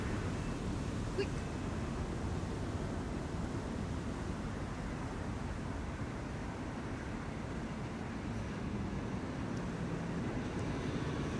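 Aircraft noise at Amsterdam Schiphol airport as a DHL cargo plane crosses: a steady, broad low rumble that holds evenly throughout, distant and continuous with no distinct peaks.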